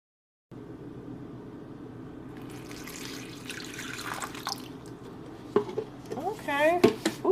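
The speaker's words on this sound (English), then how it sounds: "This purse here is supposed to hold water, so I'm going to fill this up with water" Water runs steadily from a tap into a sink to fill a fabric purse, a constant close rush that grows more splashy and gurgling toward the end, with light clinks.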